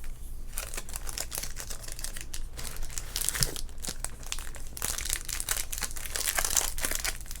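Foil wrapper of a 1990 Topps baseball card pack crinkling and crackling close up, a steady stream of sharp rustles and small snaps with no talking.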